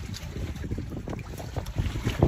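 Wind and rain buffet a small fishing boat at sea, a loud continuous rushing roar with gusty microphone wind noise and irregular thumps, no voices.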